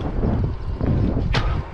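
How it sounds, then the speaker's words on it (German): A strong headwind blows across the microphone of a cyclist climbing a steep road of about 7% gradient, a loud and steady rumbling buffet with a brief whooshing gust near the end. "Wind von vorn ins Gesicht rein."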